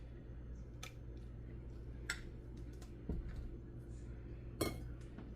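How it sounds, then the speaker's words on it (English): Spoon stirring marshmallows into a thick peach fluff dessert made with instant pudding and Jell-O, with faint scattered clinks against the bowl over a low steady background hum. "I'm going to stir in those marshmallows."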